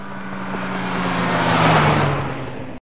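A car engine hums steadily and swells louder as the vehicle pulls away, holding a low droning tone throughout with no voices.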